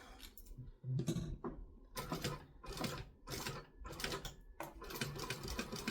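A sewing machine stitches fabric with a quilting piece, running in repeated bursts of rapid mechanical clatter separated by short pauses, close and fairly loud.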